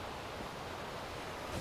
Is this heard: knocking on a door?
no